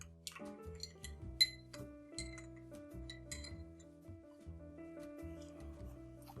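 A large, slightly tempered ice rock lowered into a whiskey cocktail glass with grapefruit bitters: a few close, crisp glassy clinks and knocks, one sharper clink near the start, then softer taps as the ice settles, with no talking.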